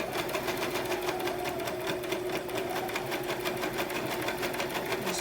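A Brother sewing machine stitching fabric, running in a fast, steady mechanical rhythm of needle strokes, close and continuous with no talk.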